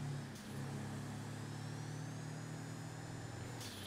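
Game engine of a BF Surfer, a VW T1-style surf van in GTA 5 Online, a steady low hum holding for several seconds before a brief change near the end.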